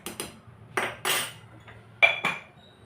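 A utensil stirs rice with salt in a metal pan for veg fried rice. About half a dozen sharp metallic clinks and knocks ring out against a quiet background.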